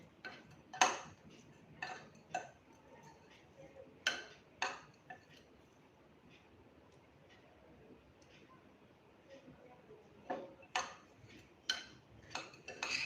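A spoon gently stirs poha (flattened rice) with squeezed lemon juice in a pan, making soft, scattered clinks and taps against the metal, with quiet gaps between the light strikes.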